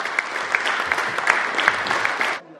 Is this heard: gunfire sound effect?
no